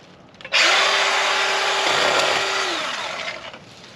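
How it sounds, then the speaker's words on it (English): A Craftsman V20 cordless pruning chainsaw whirs up sharply and cuts through a branch, a loud steady buzzing whine that holds for a couple of seconds, then dips and winds down. "It's a nice little powerful chainsaw."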